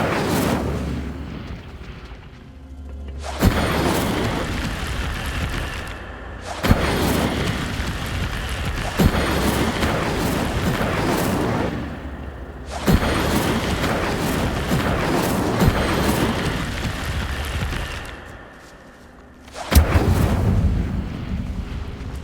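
Incendio fire spell cast in Hogwarts Legacy: loud, roaring whooshes of flame in long bursts, each opening with a sharp crack and then fading, separated by short quieter gaps.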